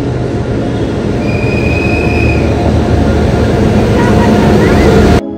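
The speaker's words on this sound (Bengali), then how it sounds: "চলো ফাইনালি ট্রেন ঢুকছে এবার।" A passenger train rolls into a station in fog, a loud steady rumble of wheels on track with a high squeal of braking wheels drawn out above it, before cutting off abruptly.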